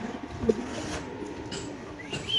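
A pigeon at a seller's loft gives a soft, short coo near the start, over a low, noisy background with faint scattered chirps.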